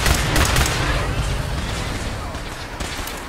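Video game gunfire in a wasteland survival game, a dense burst of loud overlapping shots and impacts that fades slightly toward the end, with a player's voice underneath.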